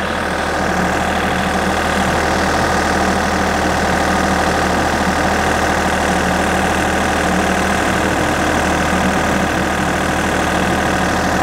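Japanese generator engine idling at low speed, a loud, steady, even hum with a low rumble and faint knocking texture, running alone without interruption.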